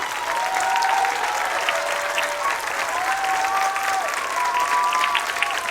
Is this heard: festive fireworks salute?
no